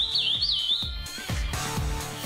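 Songbirds kept by a curió breeder at his home chirp and trill in quick, bright phrases over a steady low background, fairly close and without any voices.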